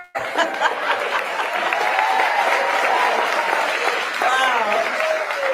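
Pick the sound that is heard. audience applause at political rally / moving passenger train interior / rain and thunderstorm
audience applause at political rally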